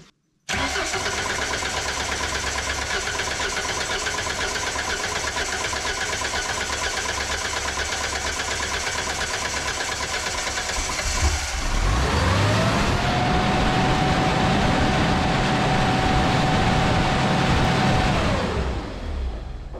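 A boom lift engine cranks with a steady starter whir for several seconds, then catches and runs at full throttle with a loud, even drone close by.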